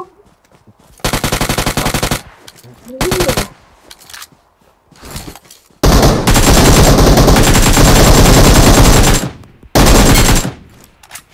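Bursts of rapid automatic gunfire from an online shooter game, loud and close, come in several volleys of one to four seconds with short quiet gaps between them, and no talking is heard over the shots.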